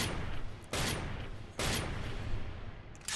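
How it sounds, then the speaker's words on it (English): Gunshots in a Devil May Cry 3 cutscene, heard as a few sharp loud bursts over a dense continuous roar, close and prominent with no talk. "she was shooting him several times"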